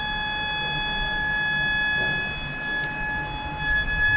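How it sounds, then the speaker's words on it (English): A hotel fire alarm, heard from the spa and sauna area, sounds a steady sustained electronic tone with bright harmonic lines, holding continuously throughout at moderate level over faint background rumble. "then this fire alarm came"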